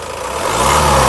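A 2015 Honda Amaze S petrol car engine revs up from idle, a close, loud hum that rises steadily in pitch and intensity over about one second.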